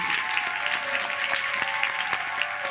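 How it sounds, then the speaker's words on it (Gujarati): Audience in a religious discourse hall claps together in a steady, continuous patter of applause filling the whole stretch at moderate loudness. "આ પુરાતન સ્વામી ને તાળીઓ પાડો"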